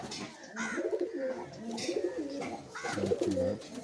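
A Madras pigeon with a closed tail coos in soft, rolling phrases close by, two short bursts of throaty calls separated by a pause.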